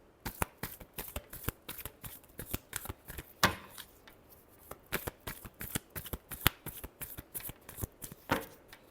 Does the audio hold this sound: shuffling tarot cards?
yes